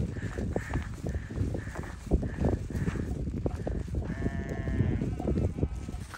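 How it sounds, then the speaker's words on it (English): Hundreds of sheep bleat while being herded down a misty mountain trail in the San Juans, with repeated close cries overlapping in a dense chorus amid shuffling hooves and footsteps. "I'm hiking in a cloud with hundreds and hundreds of sheep."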